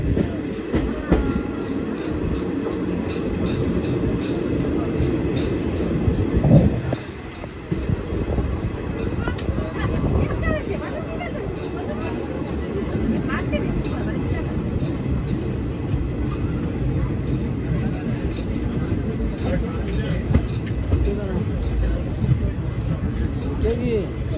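The 19016 Saurashtra Express from Porbandar to Mumbai rumbles steadily from on board, with a continuous roar and faint rhythmic clatter of wheels on rails lasting the whole stretch.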